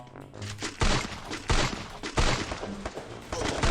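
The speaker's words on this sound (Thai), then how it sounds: "โปยิงผมเกือบแตก" Bursts of gunfire in the shooting video game Free Fire, loud and close, coming in repeated rapid volleys with short pauses between them, while a voice talks excitedly over the shots.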